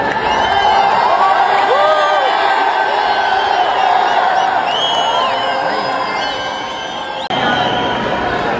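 A large, loud crowd cheers and whoops continuously at a cricket final in the Entertainers Cricket League (ECL), Haryanvi Hunters against Lucknow Lions, with a dense roar of voices and shouting all the way through.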